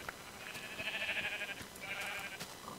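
Two drawn-out sheep bleats from Minecraft, one after the other, over a steady hissing background with no talk.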